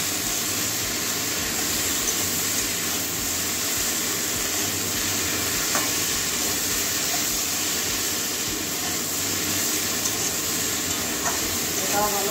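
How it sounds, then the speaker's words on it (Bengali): Cauliflower stalk curry with potato and eggplant sautéing and being stirred in a pan, a steady broadband sizzle throughout with occasional utensil scrapes, close and even in level, faint voice underneath. "এটাও ভালো করে একটু কষিয়ে নেব।"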